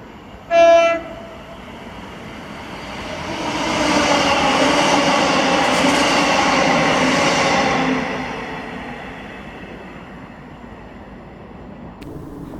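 A ScotRail passenger service, 1Y75 from Edinburgh to Glasgow Central, passes Holytown after a short horn blast, its rumble swelling to a steady roar at mid-distance before fading away.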